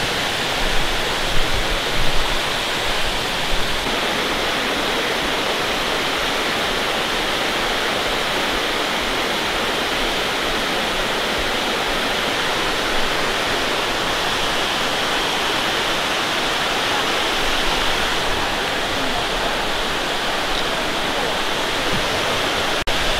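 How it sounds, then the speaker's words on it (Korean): Towangseong Falls in Seoraksan, South Korea, roars steadily throughout in heavy flow, a dense, constant rush of crashing water heard up close with no pauses. "지금 육단 폭포 위를 지나고 있는데요"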